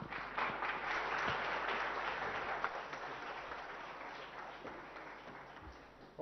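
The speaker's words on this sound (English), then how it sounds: "with a round of applause, please welcome Mr. Ganesh Murthy." Sustained audience applause welcoming a speaker at the opening of the Microchip Technology India office in Kokapet, a steady, fairly loud wash of many hands that fades slightly toward the end.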